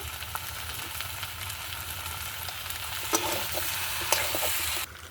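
Steady close sizzling of prawns sautéing with papaya and taro in a pan, with a few light stirring scrapes over a continuous frying hiss that cuts off abruptly near the end.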